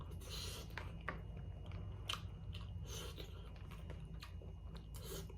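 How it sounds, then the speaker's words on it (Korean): Someone eats rice from a convenience-store boxed lunch, giving soft, close crunchy chewing sounds in a steady irregular rhythm, with no speech over them. "이거 밥을 좀 먹어보겠습니다"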